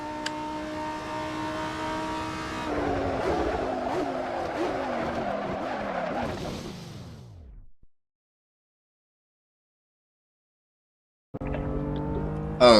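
A GT3 race car in the Assetto Corsa racing game, engine droning loudly then climbing through rising gear pulls before cutting out to silence, with the engine returning briefly near the end.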